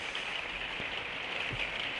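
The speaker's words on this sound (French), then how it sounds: "Il sait pas arrêté de pleuvoir une seule fois." Steady rain falling outdoors during a camping stay, a continuous hiss of drops on surfaces with a few louder drips standing out, close and even, with no one speaking.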